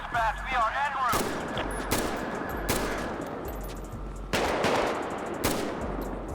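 Gunfire in GTA V with the LSPDFR police mod: rapid automatic bursts and single shots crackle in steady, loud volleys with brief gaps, continuing for several seconds, and faint voices sound in the mix.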